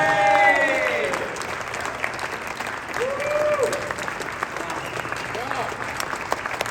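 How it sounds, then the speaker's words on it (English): An audience at a speaking engagement in Las Vegas applauds for a woman named Claudia, loud sustained clapping with cheers and whoops rising above it, easing slightly toward the end. "Give her a round of applause."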